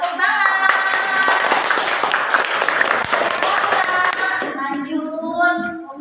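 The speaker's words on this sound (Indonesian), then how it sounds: "iya, tepuk tangan." A classroom audience claps for a group that has just finished presenting during a student-teaching lesson. The applause is dense and continuous, then thins out toward the end as a voice starts speaking.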